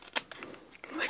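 Small Dollar Tree craft scissors snip close up in quick, crisp cuts, a few short bursts spaced unevenly across about a second.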